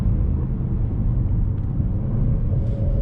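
A 2021 Range Rover Sport SVR with a supercharged V8 accelerating hard, giving a loud, continuous deep engine rumble heard up close with no talk over it.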